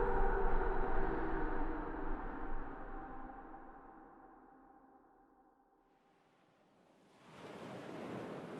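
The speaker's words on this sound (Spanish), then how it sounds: "Oyó el ruido de las olas" Ocean waves break on a sandy beach, a broad wash of surf that fades slowly into near silence before a fresh wave surges in, fairly soft and distant with no voices.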